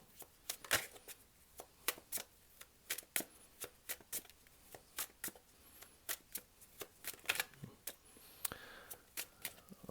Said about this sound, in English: there are moments of silence while I may be shuffling the cards